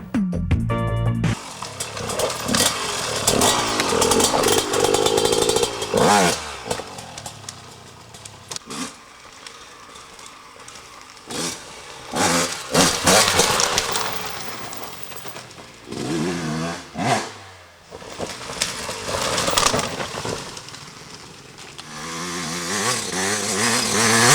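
A 2006 Gasgas 125 two-stroke enduro motorcycle screams loudly and close, its revs rising and falling sharply through repeated throttle bursts with brief drops between.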